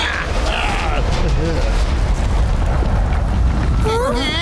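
A cartoon monster explodes in a loud, sustained rumbling blast with crashing debris, under excited voices that cut in near the end.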